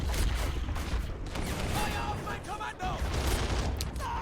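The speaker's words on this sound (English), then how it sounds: "2 separate explosions, we're dealing with mortars again." Mortar explosions and gunfire from Men of War: Assault Squad 2, a 1940 Battle for Dinant scenario, come as dense, continuous battlefield noise with rattling shots and booms throughout, with speech in the mix.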